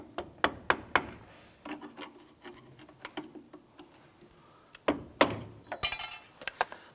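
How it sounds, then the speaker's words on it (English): A flathead screwdriver taps a metal hose retaining clip off during CV axle replacement on a 2008-2013 Nissan Rogue: a series of sharp, close metallic clicks and taps in bursts, with clusters near the start and again toward the end. "I'm going to use a flathead screwdriver or a small chisel type tool and just tap that"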